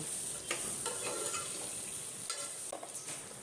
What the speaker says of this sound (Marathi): एक मिनटासाठी आपण या फोडणीमध्ये परसबी छानपैकी परतवून घेऊ